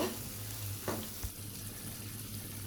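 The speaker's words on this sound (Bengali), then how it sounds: "এখন আমি দিয়ে দিব মটরশুঁটি মটরশুঁটিগুলোকে একটু নেড়ে ছেড়ে নেব" Green peas go into a pan with sautéed spices for cauliflower dopeyaza and get stirred, a soft, even frying hiss with a couple of faint utensil knocks, low hum underneath.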